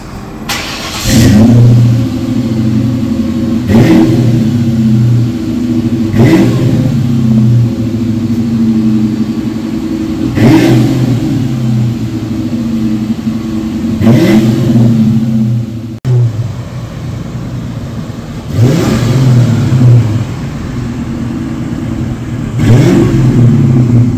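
A 1997 Mercury Grand Marquis 4.6-litre V8 with Flowmaster 40 mufflers revs repeatedly, each burst rising to a deep roar then dropping back to a rumbling idle, loud and close.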